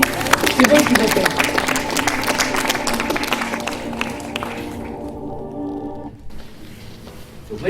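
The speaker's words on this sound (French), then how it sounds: "Allez, on les remercie, on les applaudit." Audience applauding performers at a live stage show in France, loud dense clapping that thins and fades out over several seconds, with someone speaking over it and continuing after the applause ends.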